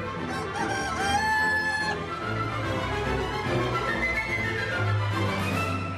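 Chickens cluck steadily while a rooster crows loudly over them, the whole flock close and constant with no talking.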